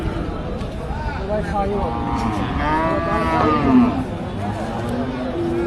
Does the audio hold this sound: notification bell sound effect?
no